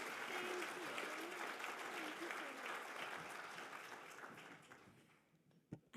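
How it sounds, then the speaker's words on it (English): Conference audience applauding at an opening ceremony, a steady dense patter of many hands that gradually thins out and fades, ending with a few isolated claps. "You can applause now. That's really applause for her."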